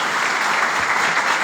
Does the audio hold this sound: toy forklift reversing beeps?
no